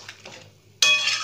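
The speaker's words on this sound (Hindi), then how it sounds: "इसे हम एक मिनट के लिए और ढक देंगे" A lid is set onto a cooking pan of potatoes in yogurt gravy, giving one sudden loud clank with a sizzling wash that holds on after quieter kitchen sounds.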